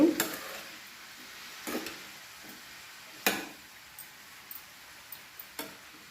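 Salted bottle gourd fry being stirred in a pan, heard as a few quiet, spaced scrapes and taps of a spoon against metal over a faint background.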